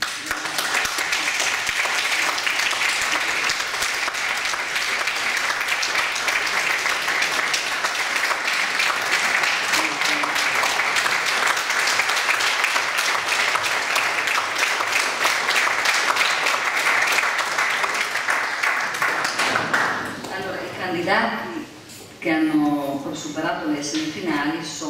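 Sustained, loud applause from a large crowd at a music competition final fills most of the stretch, then fades near the end as a voice begins speaking.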